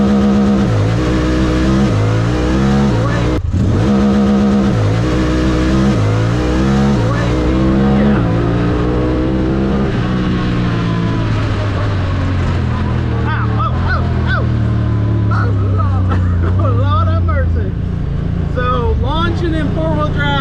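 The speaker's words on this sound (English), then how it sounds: "Launching in 4-wheel drive is where it's at." A 2021 Honda Talon 1000X-4 UTV with Fox Live Valve launches in four-wheel drive, its engine loud and close, revving up through rising pitch, with a brief clunk partway through.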